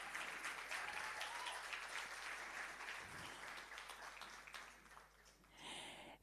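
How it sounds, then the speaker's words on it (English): Audience applause for staff members coming up at an employee celebration event, a dense, even wash of clapping that holds steady for several seconds before tapering at the end. "Let's give them a round of applause as they come up."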